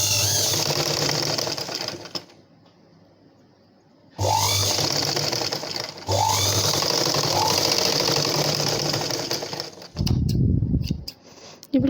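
A sewing machine stitching a blouse dart from the shoulder-neck area runs in bursts of fast, even needle clatter, pausing twice into near quiet, with a short low thud near the end.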